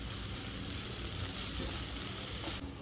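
Chopped tomatoes sautéing in a pan for chicken kheema, a steady, close frying sizzle that holds evenly throughout with no talking.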